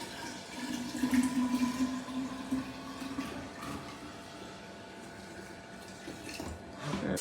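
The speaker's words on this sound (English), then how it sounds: "add enough cold water to fill it up" Cold water pours steadily into a jug that already holds an iced tea mixture, a continuous moderate rushing stream that swells near the start and again at the end.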